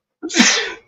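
A single close, loud sneeze from a man in a garage-like setting, a sharp intake followed by a bright burst that fades within a second, with no talking.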